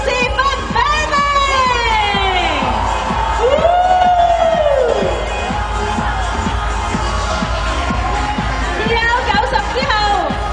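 An audience cheers and whoops to welcome Benny onto the stage at a body-transformation showcase. Loud crowd noise with shouts runs continuously, mixed with sweeping high tones, and there are voices in the background.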